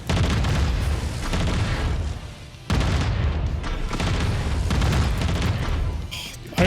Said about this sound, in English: I really do like just the thudding of the guns when you're unloading on everything you've got